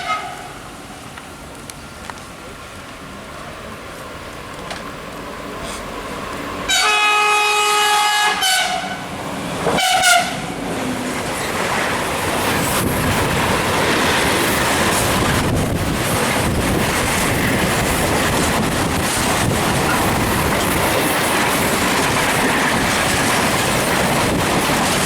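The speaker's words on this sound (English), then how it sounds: "Here's a straight through train coming." A straight-through train rolls past a station in Spain with wind buffeting the microphone; a brief horn-like tonal burst sounds early, then a long steady rushing roar of rail cars.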